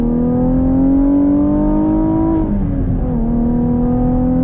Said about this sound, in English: We're in the Chevy Camaro RS Redline Edition. Are you ready to go on throttle? I am. On throttle, here we go.